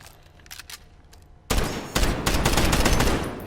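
Oden assault rifle hipfired in the shooter Modern Warfare, fitted with larger magazines: after a quiet start, a loud burst of rapid, close gunfire erupts and continues in sustained, punchy volleys.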